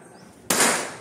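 A single sharp shot from a PCP air rifle cracks out after a quiet moment during an accuracy test, a sudden loud burst that fades quickly with a short outdoor tail.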